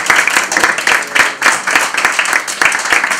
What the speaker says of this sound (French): Alors on te remercie, hein, on t'applaudit d'ailleurs.